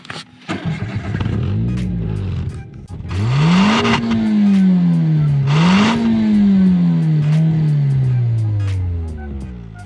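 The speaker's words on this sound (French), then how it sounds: "On peut pas faire un essai sans vous faire écouter le bruit de l'échappement, tout simplement." A Renault Twingo 2 RS Cup's exhaust heard from inside on the move: the engine fires into loud revving, climbs through the gears with rising and falling pitch, then settles into a steady drone.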